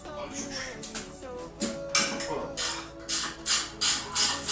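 A wrench ratchets while unbolting the shock absorbers on a moped, heard as a series of short, close metallic clicking bursts that grow louder and more regular toward the end.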